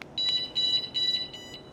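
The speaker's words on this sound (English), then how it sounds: "last beep, that's armed." A van alarm gives a series of sharp, high-pitched electronic beeps in an irregular rhythm, close and fairly loud, ending as the alarm arms.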